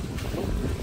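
Steady wind buffeting the microphone aboard a small miniature bus while it drives, a constant low rumbling roar that fills the short moment without any talk.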